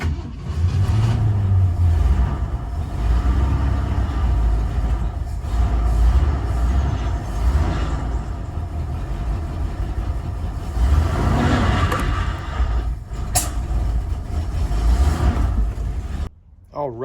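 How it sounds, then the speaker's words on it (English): A 1970 Ford Country Squire station wagon, parked for 14 years, backs up in reverse with a steady mid-pitched engine rumble that stays loud and close, rising slightly as it moves before cutting off abruptly. "We're gonna put this thing in reverse and we're gonna feel the thing go back."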